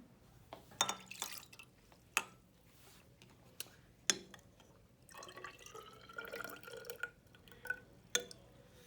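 Water poured and dripping into a measuring container during a classroom science measurement, heard as scattered close drips and splashes with a short trickling pour in the middle, fairly quiet and with no talking.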